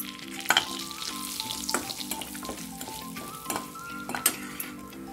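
Bay leaves and cumin sizzle in hot oil for palak paneer under a steady frying hiss. Several sharp clinks of a spoon against the pan are mixed in, and no speech is heard.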